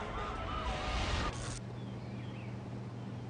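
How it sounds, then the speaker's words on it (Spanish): An ambulance siren wails faintly amid dense traffic rumble, its rising and falling tone partly buried in a steady wash of city noise. "la sirena de una ambulancia alcanzaba los 120 decibelios"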